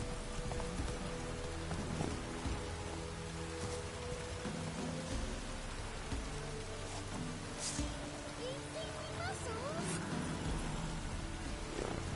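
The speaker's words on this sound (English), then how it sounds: "This downpour's a bastard, it is." Heavy rain in The Witcher 3 pours down in a dense, continuous roar, with faint voices and occasional louder splashes mixed beneath the downpour.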